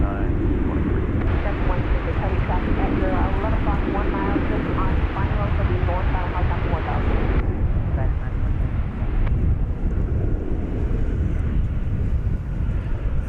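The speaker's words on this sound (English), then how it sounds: "This is the flight coming in from Haneda, flight 176," A Boeing 787-800 on flight 176 from Haneda arriving at DFW Airport, a loud, sustained jet roar that stays strong throughout, with a voice talking over it.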